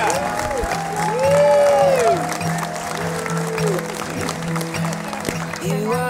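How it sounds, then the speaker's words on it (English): Wedding guests at a Malibu beach club clap and cheer for the couple's kiss, a close burst of applause under a steady drone and wavering tones, with brief voices in the crowd. "let's all applaud while they kiss"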